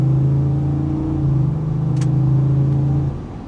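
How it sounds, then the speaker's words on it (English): A 2025 Ford F-150 Lariat pickup's V8 exhaust burbles loudly at a steady idle-to-light rev, a deep droning tone that drops off near the end. "Hopefully you can get a little bit of an earful of the exhaust note right there."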